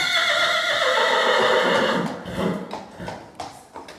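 A horse at an equestrian stable in Europe gives a loud, drawn-out whinny up close, followed by scattered hoof clops and shuffling.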